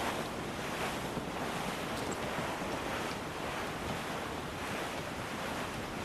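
Steady ocean surf and gusting wind at sea, with wind buffeting the microphone, from the pirate sailing game Assassin's Creed 4: Black Flag; a continuous, fairly even wash of broadband noise with no talk.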